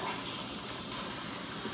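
Liquid poured steadily in a continuous close gushing splash, loud and unbroken for under two seconds.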